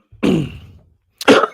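A person coughs twice while their throat is sore: a hoarse, throaty first cough, a pause of about a second, then a second short, sharp cough, both close and loud with no speech.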